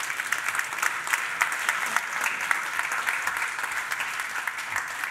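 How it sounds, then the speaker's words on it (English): A studio audience applauds a British Cycling guest, steady dense clapping filling the whole stretch at moderate loudness without any talk. "Give him a round of applause."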